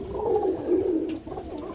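Roller pigeons coo in a loft, with low, throaty warbling calls rolling close by in two soft bursts and a brief pause between them.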